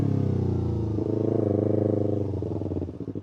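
A motorcycle fitted with a new KO Lightning exhaust runs close and loud, its engine droning steadily and then throbbing in rough pulses as the revs drop near the end, with no talking.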